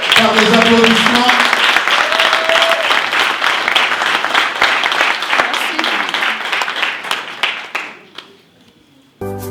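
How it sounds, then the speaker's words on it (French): An audience at a Paris celebration marking the 15th anniversary of an Ivorian daily newspaper claps loudly and steadily for several seconds before the applause thins out and dies away, followed by a brief burst of other sound. "Savane Allah, je vous invite à l'accueillir par des applaudissements."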